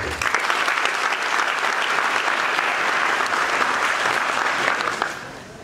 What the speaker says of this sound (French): je demanderai à l'audience de saluer cette ouverture par des applaudissements